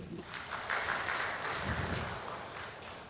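Steady applause from a church congregation after a prayer, a dense wash of clapping that holds evenly for a few seconds, moderately distant.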